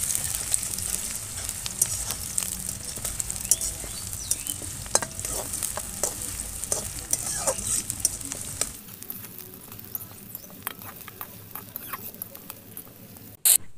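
Chopped onions frying toward golden brown for a chicken curry, a continuous close sizzle and spatter with stirring scrapes that drops quieter partway through, no talking.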